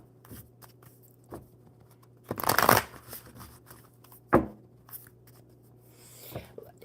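Oracle cards are shuffled in a few short bursts: a long riffling rustle, then a sharper single flick and softer brushes, close and quiet in an otherwise still room with a faint steady hum.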